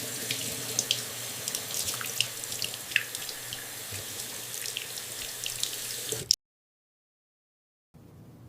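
Tap water runs steadily into a sink while eggs are peeled under the stream, with small clicks and splashes from handling, then stops abruptly into silence for a moment near the end.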